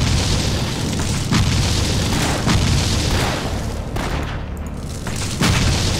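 Explosions in the dungeon action game Torchlight go off one after another, a loud, continuous barrage of booming blasts with sharp bursts landing roughly every second over six seconds.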